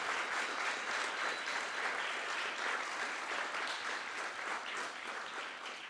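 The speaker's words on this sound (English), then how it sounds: "ask you all to give a massive round of applause" Sustained applause from a large audience at a cycling mobility forum in Copenhagen, dense and steady clapping throughout that eases slightly toward the end, with no talking over it.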